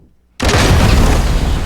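A cannon fires in the Roblox game Troll Deathrun, a sudden loud boom cutting in after near silence and followed by a dense, sustained roar that fills the rest of the moment.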